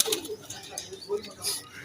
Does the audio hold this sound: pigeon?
yes